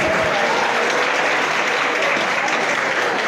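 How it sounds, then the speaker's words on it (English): An audience at a debate competition claps for the contestants, a thick, even wash of applause holding at steady volume throughout the short stretch with no talk. "Please, another round of applause for our contestants."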